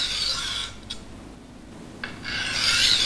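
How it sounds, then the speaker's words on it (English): A knife blade grinds steadily across a coarse Norton crystalline silicon carbide stone in long, close rasping strokes that swell and fade with each pass, heard alone without talk. "Sharpen the edge on this stone until it is sharp."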